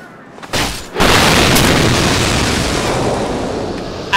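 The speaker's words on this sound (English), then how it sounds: "Explosive barrel!" An explosive barrel blows up in a video game: a quiet lead-in, a small pop, then a loud booming blast with a long roaring tail that stays heavy to the end.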